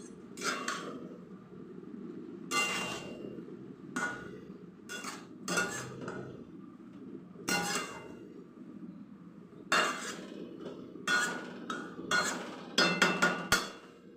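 A metal lid and cookware clatter on a cooking pot of pumpkin vegetables in a home kitchen: a series of sharp, close clinks and knocks arrives in irregular clusters with quiet gaps between them and no talking.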